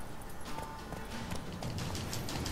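Horse hooves clip-clopping steadily in The Witcher 3 video game, a continuous close run of hoofbeats over a busy game soundscape, with no talk.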